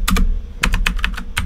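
Computer keyboard keys pressed while working in AutoCAD, several loud close clacks in a quick irregular burst, with a short pause before the later strokes and no talk over them.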